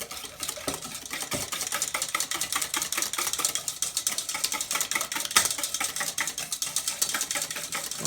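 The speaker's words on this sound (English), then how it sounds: "I'm just going to use a hand whisk. I'm going to beat up these wet ingredients." Hand whisk beating wet ingredients for zucchini fritters in a bowl, a fast steady stream of close, rapid clicking strokes that runs on without pause and with no talking.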